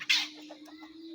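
A pet krokotok, or tukmo dove, calls with a short loud note followed by a few soft, spaced coos, heard close over a steady low electrical hum.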